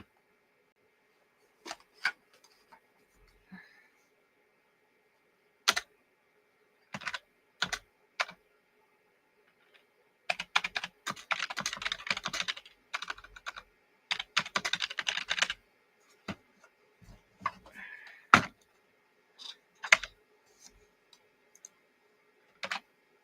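Keys on a computer keyboard clack in scattered clicks and short bursts of rapid typing, close and crisp, with silent gaps between the flurries.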